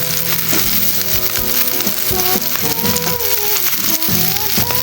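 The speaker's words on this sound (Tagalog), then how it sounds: "Para yung patatas, prito na lang." Potatoes frying in hot oil in a home kitchen, a loud, continuous close sizzle with crackling pops and occasional scraping stirs throughout.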